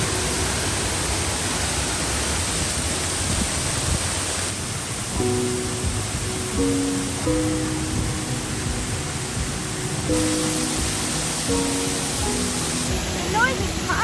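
Powerful, continuous waterfall roar heard from behind the falls in the Brecon Beacons, a loud broadband rush filling the whole clip, with a person talking faintly underneath.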